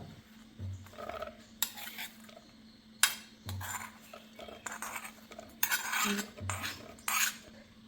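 A spoon stirs roasted coconut into unniyappam batter in a metal vessel, giving repeated clinking scrapes and knocks in short bursts, close and fairly quiet, with no talk.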